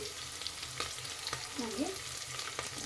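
Green chillies frying in ghee for wedding-style ghee rice, a steady close sizzle with a few light stirring scrapes and clicks throughout.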